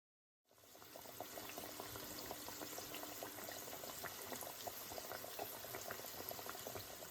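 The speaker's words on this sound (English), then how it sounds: "We're going to let that cook and reduce slightly to concentrate the flavors" A pot of sauce simmers and reduces on the stove after the opening half second, a steady low bubbling with scattered small pops that holds even and moderately loud without any voices.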